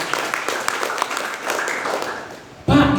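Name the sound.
audience applause for PT BES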